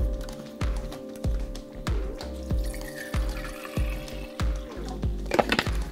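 Water is poured and splashes while being readied for boiling to cook a ration meal on a small dime stove, with uneven gurgles and drips over a faint background hum.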